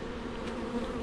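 Honey bees at an opened hive give off a steady close buzzing drone that stays even and continuous throughout the brief moment.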